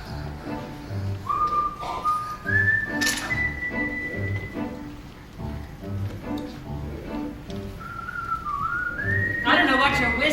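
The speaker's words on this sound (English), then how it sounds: "I don't know what you're whistling about." A person whistles a melody in sustained, sliding tones, with a pause in the middle before the tune resumes, over a soft rhythmic musical backing.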